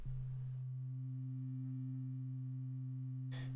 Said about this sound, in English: And now we hear the LFO mixed in.